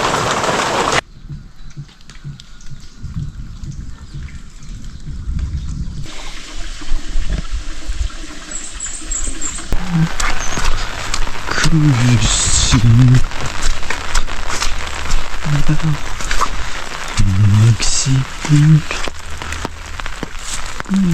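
Steady rain falls on a rural cattle shed through a long, wet day, a constant close hiss with someone talking over it in places.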